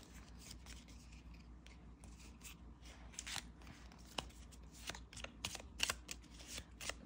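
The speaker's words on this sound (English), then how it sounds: "There's so few left that it's really kind of pointless to shuffle, but it's just a habit." Uno cards shuffled by hand at a game-night table, a soft, close riffling and flicking that runs throughout, with irregular crisp snaps of cards against each other.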